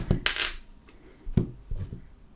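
A deck of cards being shuffled and cut, giving brief crisp riffles and soft tapping knocks of cards against a surface, a few separate quiet bursts close by.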